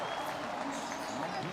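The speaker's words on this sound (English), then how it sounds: "You can hear the crowd cheering behind me here." A packed bar crowd at a basketball game cheers and claps in a steady, muffled background roar, heard briefly at moderate distance.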